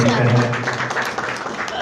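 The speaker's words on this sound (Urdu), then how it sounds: "یہ تالیاں تو ہیں بھرپور تالیاں" Congregation applause at a worship gathering: a dense, steady wash of clapping lasting a couple of seconds, with a low voice or music running underneath.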